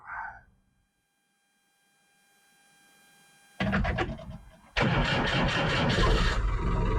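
A car engine with a transmission under repair cranks and fires up, settling into a loud, steady run after a quiet pause, heard alone with no talk.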